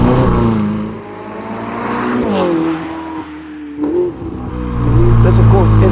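Novitec-tuned Ferrari SF90 Spider supercar, 1109 hp all-wheel-drive hybrid, driving and accelerating with a loud, rising engine note that surges, eases off, then climbs again, heard close and steady throughout.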